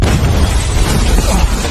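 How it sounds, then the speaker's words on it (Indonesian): A loud, dense explosion rumbles in a film scene, a sustained heavy low roar with broadband noise and no clear break. "ledakan tersebut membuat Kuki terlempar beberapa meter"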